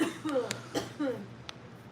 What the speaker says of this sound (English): You hear the wife over there coughing.